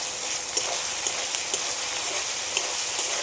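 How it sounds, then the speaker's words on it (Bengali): Chicken coated in spices and sour yogurt sizzles steadily in a pan, a dense continuous frying hiss with occasional small pops and stirring clicks, close and fairly loud, with no voices. "মশলাটা একটু ভালো করে কষিয়ে নেব"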